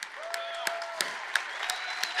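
Brief round of audience applause at a live seminar, steady overlapping claps from a crowd with a few sharper close claps standing out at regular intervals.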